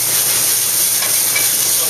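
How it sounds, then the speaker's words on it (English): Broccoli hitting a hot pan already holding garlic, water flashing to steam with a steady, loud sizzling hiss that fills the whole two seconds, no voices. "And then I'm just going to add the broccoli. And you hear this steam. That's from the water hitting the pan."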